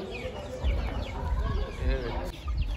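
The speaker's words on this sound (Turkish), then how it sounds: "Burada Hint kırması güzel köy tavuğu var." Chickens, including Indian-cross village hens, cluck and chatter at the Karaman poultry market, several birds close by with short repeated calls, while people talk in the background.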